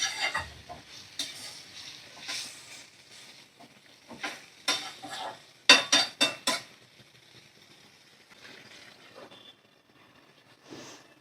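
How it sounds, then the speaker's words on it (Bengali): Chicken tossed with spices in a frying pan, a spatula scraping and clattering against the metal in bursts over a quiet sizzle, with sharper clangs near the middle and no talking. "চিকেনগুলো ভালো করে আমি মশলাতে মিশিয়ে নেব"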